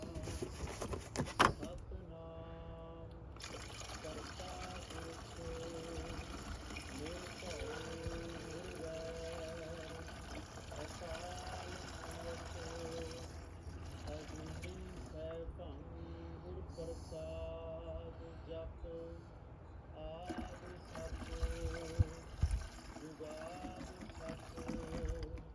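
Coolant poured into the cooling system of a 2018 Ford Flex during a drain and fill, a quiet gurgling trickle and glugging flow heard close up, with someone talking at intervals.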